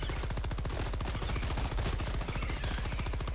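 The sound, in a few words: gunfire in the video game Helldivers II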